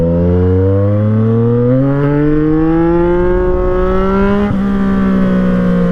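A Yamaha MT-09 motorcycle engine runs while riding, its loud, steady drone climbing smoothly in pitch as the rider accelerates through a gear, close and unbroken.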